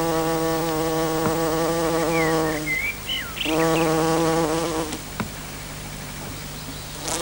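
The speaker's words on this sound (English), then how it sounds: "somewhere on here in a moment there should be a bee" A bee buzzes close among flowering gorse bushes outdoors, a steady drone that pauses briefly, shifts pitch and returns before fading into quiet open air.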